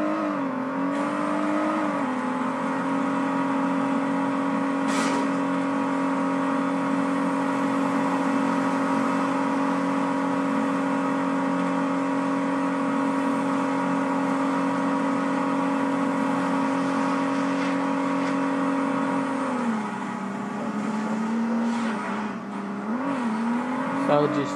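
A car in the Saints Row game keeps a steady engine drone at a sustained pitch, which drops and wavers near the end as the vehicle slows. Faint game sounds sit in the background.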